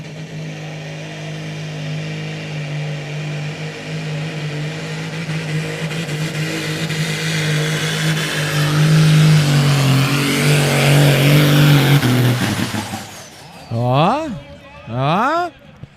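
A 4.5 t Super Sport class tractor-pulling vehicle roars through a full pull, its engine held at a loud sustained rev that climbs before cutting off, followed by a couple of short revs; crowd and announcer noise blend underneath.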